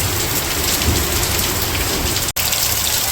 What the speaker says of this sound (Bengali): এখন অনেক বৃষ্টি হয়েছে।